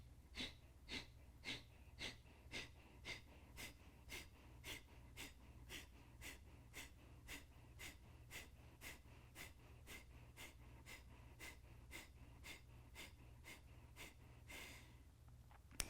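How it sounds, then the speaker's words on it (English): Kapalabhati breath of fire: sharp, forceful exhalations through the nose repeat in a steady quick rhythm, about one or two each second, quiet and close, for the whole stretch with no talking. "This is our breath of fire, Kapalabhati"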